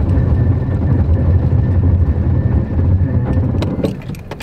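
Four-wheel drive vehicle in high range slowing from 45 mph on a snowy road, a loud steady rumble of engine and tires that fades toward the end with a few faint clicks and knocks.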